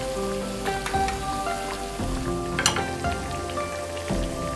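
Potato crunchy snacks frying in hot oil give a continuous crackling sizzle at moderate level, with occasional sharper pops rising above the bubbling.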